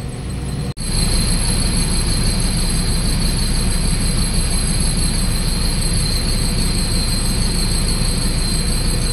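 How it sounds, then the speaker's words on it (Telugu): A train rolls past near a Chennai railway station, heard from an AC sleeper bus stuck in heavy traffic as a loud, continuous rumble with a faint high whine throughout. "ట్రైన్ వెళ్తుంది పక్క నుంచి."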